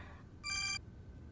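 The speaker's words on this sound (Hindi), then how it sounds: "बाबा का फोन आ गया" A telephone ringtone in a Pakistani TV drama scene sounds once as a short, bright electronic trill, clear and close against a quiet background.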